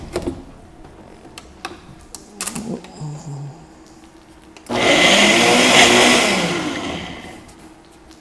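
A blender pulses onion, jalapeno and tomato with a little olive oil, a loud whirring burst of about three seconds after a few quieter clicks and knocks, with no one talking.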